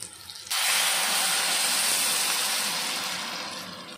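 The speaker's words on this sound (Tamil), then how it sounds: "நல்லா கலந்து விட்டோம்னா தண்ணி நல்லா கொதிக்குது." Water brought to a boil in a pan for vermicelli in a home kitchen gives a steady, loud broadband hiss that starts abruptly and holds for about four seconds, easing slightly toward the end, with no talk.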